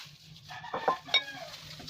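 Two packs of Luxe Organix Natural Brown hair dye being mixed in a bowl: a few soft, brief stirring scrapes and light clinks, faint and close, with no talking.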